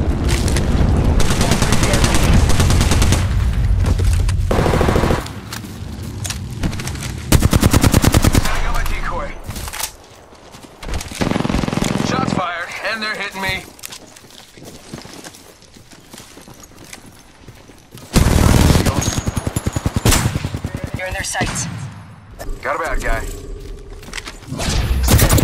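Gunfire from a shooter video game rattles in dense automatic bursts and single shots across the stretch, loud and close, alternating with quieter gaps of game sound effects.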